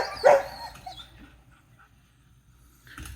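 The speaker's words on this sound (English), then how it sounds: "Them dogs are crazy." Dogs give a sharp bark up close, followed by fading whimpers and small yips, then a quiet stretch and another short yelp at the end.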